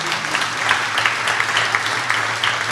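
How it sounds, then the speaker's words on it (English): A big round of applause breaks out for John at an open house event in downtown Muskegon, a dense, steady wash of many hands clapping close by that holds without a break for the whole stretch. "if I could get a big round of applause for John"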